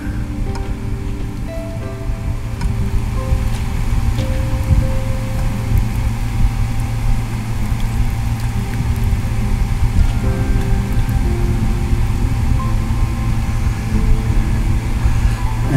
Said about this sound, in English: Now I'm gonna turn on the fan, so you're gonna hear some fan noise,